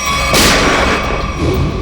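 Single sharp gunshot from a gun rigged to a clip in a crime TV series scene, one loud burst followed by a fading tail and low background ambience.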